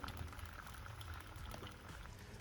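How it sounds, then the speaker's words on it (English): An egg fried in a pan gives a steady, soft, even sizzle and bubbling crackle that runs throughout, with no talking and no other sounds over it. "Cracking my egg into the pan. Oh, I like the sound."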